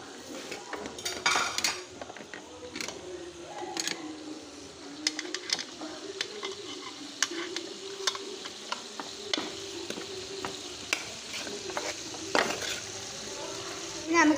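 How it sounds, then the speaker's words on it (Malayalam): Coriander, mint and curry leaves sizzle in a pan for chicken biryani, with a spoon repeatedly scraping and stirring against the metal in irregular clinks over a soft, steady fry. "നന്നായി വഴറ്റി കൊടുക്കണം."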